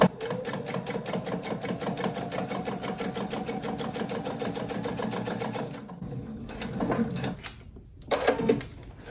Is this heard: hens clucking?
no